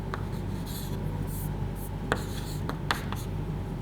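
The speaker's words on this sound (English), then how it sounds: "let us write it down" Pen or marker scratching out equations on a board or paper during a maths lesson, soft continuous rubbing strokes with a few sharper taps, close and faint, no talk.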